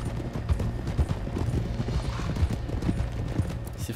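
Horse hooves clip-clop steadily at a walking pace in the Red Dead Redemption video game, with a regular rhythm of close, moderately loud thuds over a soft, constant background rumble.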